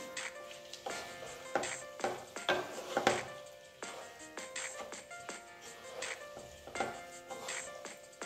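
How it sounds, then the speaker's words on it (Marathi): Vegetable fried rice being tossed and stirred in a pan, with repeated clinks and scrapes of a spoon against metal in an irregular rhythm, close and moderately loud, with no talking. "व्यवस्थित आता हा भात परतून घ्यायचा आहे"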